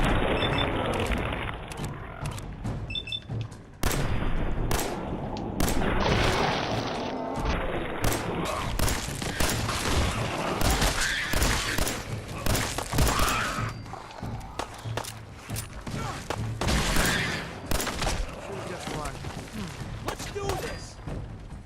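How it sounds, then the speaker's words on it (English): Rapid bursts of gunfire in Fallout 4 survival mode, with dense repeated shots, thuds and crashes over a sustained loud battle lasting many seconds, with some talk mixed in. "Something's out there. Opening fire."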